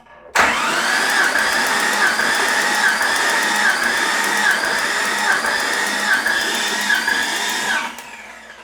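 A Jeep XJ engine cranked over by its starter during a compression check without firing up, giving a steady, loud whirring drone that runs unbroken for about eight seconds before cutting off.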